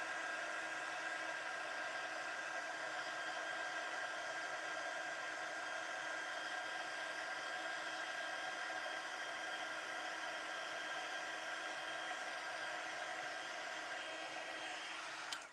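A heat tool blows steadily and close by while melting embossing powder on a card, making a constant fan-like whoosh that holds for the whole stretch and cuts off at the end.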